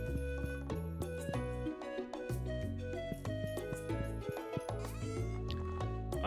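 Farm goats bleat in the Stardew Valley video game over its continuous, busy background music, the bleats small and blended into the steady game soundtrack.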